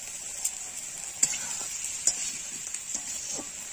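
Fish, cauliflower and potato frying in a pan give a steady, close hiss of sizzling oil, broken by a few sharp clicks of stirring.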